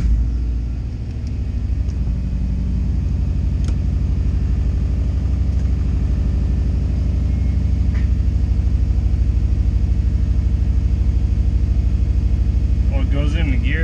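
A Subaru RallyXT with a swapped JDM transmission is driven; its engine rumbles steadily and loudly up close throughout, with a short voice near the end.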